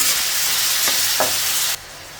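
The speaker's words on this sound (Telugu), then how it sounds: "ఇంకా ఈ సొరకాయ ముక్కలు వేగే లోపల ఆ పచ్చిమిర్చి కూడా వేగుతుంది" Bottle gourd pieces and green chillies fry in a pan with a steady, loud sizzle, broken by a couple of brief stirring scrapes before the hiss drops off abruptly near the end.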